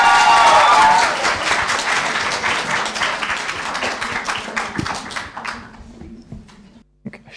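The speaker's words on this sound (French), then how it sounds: "je vous demande un tonnerre d'applaudissements finalement pour le groupe des nymphes" A theatre audience gives loud, sustained applause for a performing group, the dense clapping gradually thinning and fading out over several seconds.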